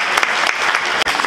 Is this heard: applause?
yes